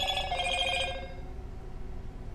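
A phone chimes for an incoming text message: a bright, tonal alert that rings for about a second and then fades into soft room noise, with no one talking.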